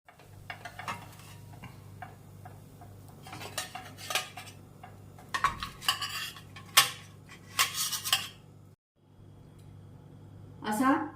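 Metal spatula scraping and clinking against a pan while a ragi dosa is lifted onto a plate, a series of sharp scrapes and taps close by, with a brief pause near the end before one more scrape.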